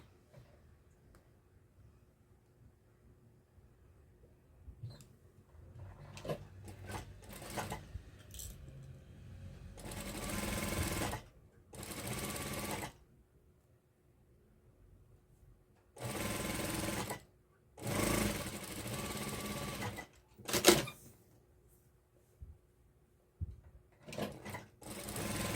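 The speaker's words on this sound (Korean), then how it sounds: "위에하고 밑에하고 박음질 해주세요." Sewing machine stitching the top and bottom seams of a flower sun bonnet in several loud bursts of steady whirring separated by pauses, with small clinks and handling sounds in between and no talk.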